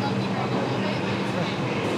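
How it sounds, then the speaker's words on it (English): A New York City subway train rides along with a dense, steady rumble and roar, loud and continuous throughout, and voices blend in with the noise. "We're on the subway."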